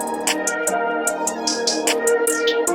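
Programmed MIDI drum rolls in a beat, bursts of rapid clicky hits and bright snare-like rattles recurring every half second or so over a steady sustained musical bed, no talking.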